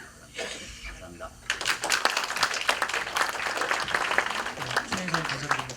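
Audience at a university lecture hall bursts into applause after a speech, dense clapping starting abruptly and holding steady for several seconds, preceded by a brief moment of speech and quieter room sound.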